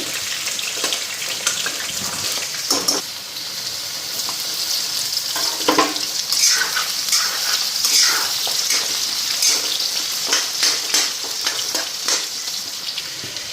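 Fish frying with spices in a home kitchen pan, a steady close sizzle with scattered crackles and occasional stirring scrapes running throughout, no voices.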